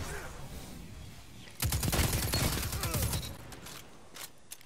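A powerful weapon fired in a Destiny 2 Crucible match, a loud dense burst of rapid shots lasting about two seconds, then fading to quieter game ambience with a late click.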